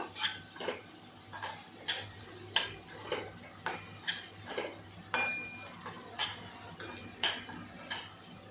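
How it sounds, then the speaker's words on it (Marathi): A utensil scrapes and stirs finely chopped coriander sautéing in a pan, a steady rhythm of close metallic scrapes about once a second over a faint sizzle. "कोथंबीर बारीक चिरलेली टाकले ती सुद्धा आपल्याला याच्यामध्ये छानपैकी परतवून घ्यायची आहे"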